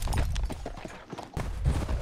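Horse hooves clip-clop on the ground in Red Dead Redemption 2, an uneven run of close, muffled thuds at a walking pace.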